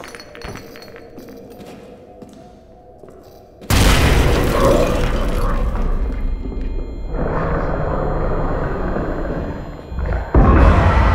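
A grenade goes off in Amnesia: The Bunker: a sudden loud blast with glassy, shattering debris that rumbles on for several seconds before a second heavy burst near the end.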